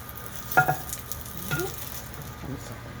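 Egg frying over easy in a pan, a soft ongoing sizzle with a few faint clinks and scrapes.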